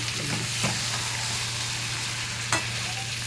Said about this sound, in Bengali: তো ভেজে রাখা ঝিঙেগুলো আমি এর মধ্যে দিয়ে দেবো